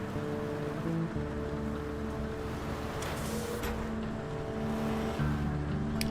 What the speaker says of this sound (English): Like the sound of the dozer engine?